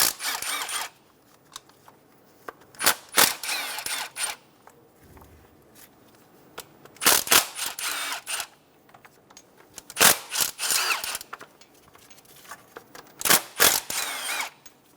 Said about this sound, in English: We'll go around and remove the 5 bolts for the valve cover using a 10mm socket.